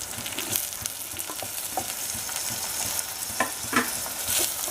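Asafoetida and tomatoes frying in hot oil for dhaba-style dal fry, a steady close sizzle broken by scattered spoon scrapes and stirring clinks, with no talking.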